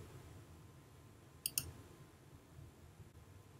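A computer mouse clicked in practice management software: a quick double click near the middle, crisp and close, over a faint quiet room hum.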